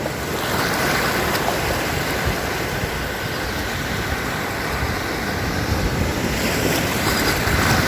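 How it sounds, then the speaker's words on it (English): Ocean waves roll onto the coast after a tropical storm, a steady broadband wash of surf with wind rushing across the microphone, continuous and fairly close, no voices. "Waves or some rollers."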